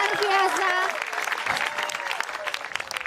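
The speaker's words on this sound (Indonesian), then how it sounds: "Tepuk tangan sekali" An audience applauds singer Nur on an Indonesian televised religious singing competition, a burst of broad clapping that swells after a voice and continues under ongoing talk from the hosts.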